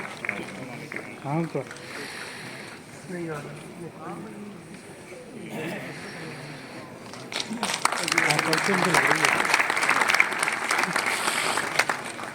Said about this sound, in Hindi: जोरदार तालियों से अभिनंदन हमारे विजेताओं का।